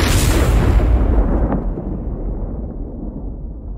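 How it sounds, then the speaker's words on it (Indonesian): One loud, close firecracker blast that booms and then fades out over a few seconds. "siapa ini yang lempar petasan?"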